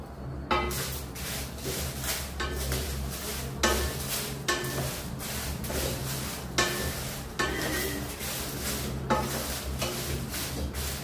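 Spices roasting in a little oil for karam podi, with steady sizzling and repeated scraping stirs of a spatula against the pan, close and continuous with no talking.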